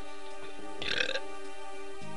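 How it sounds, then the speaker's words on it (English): A short cartoonish burp from a character in the Game Boy Advance game Fire Emblem: The Sacred Stones, a single brief eructation rising over steady chiptune-style background music. "Apparently it burps."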